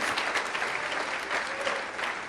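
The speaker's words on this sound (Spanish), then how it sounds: "Dale un aplauso más fuerte al Señor" Church congregation applauding steadily throughout, a dense, continuous wash of clapping from a large crowd with no pauses.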